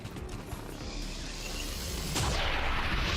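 Gunfire in the XCOM 2 strategy game, a rumbling low-end barrage that swells into a loud broadband blast near the end, with no voices over it.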